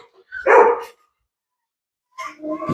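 A dog gives a couple of sharp barks in a kennel, then falls quiet before more yips and barks start up again nearby.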